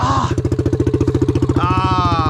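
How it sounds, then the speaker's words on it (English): Honda Rancher 350 ATV with a freshly rebuilt engine running with a rapid, steady chug, loud and close, then rising as the throttle opens, with a brief voice over the motor. "that new engine rebuild's doing good"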